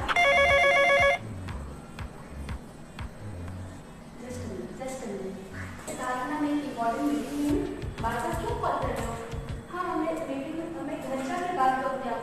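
A telephone bell rings loudly in a short burst at the start. Then someone talks at length while faint background noise continues.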